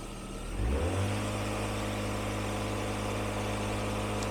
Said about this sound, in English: we're going to rev up the engine and bring it to maybe about 1500